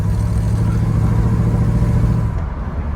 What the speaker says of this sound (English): Motor sounds good. I don't hear any squeals, any exhaust leaks or anything.